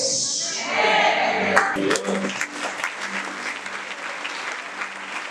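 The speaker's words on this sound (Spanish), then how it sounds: "Si le va a aplaudir, apláudale con ganas." Church congregation bursting into dense applause at a Spanish-language sermon, loud and full at the start and then fading into scattered claps, with a voice rising over it.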